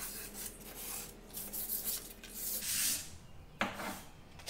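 Painted wooden hutch being hand-sanded between coats: soft, close rubbing strokes rise and fall irregularly, with a sharper scrape near the end, quiet overall.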